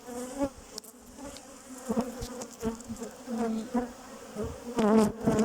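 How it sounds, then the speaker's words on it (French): Dense buzzing of many honeybees at a hive hums continuously at close range, rising and falling in intensity with scattered clicks and movement. "C'est une abeille qui portait du pollen."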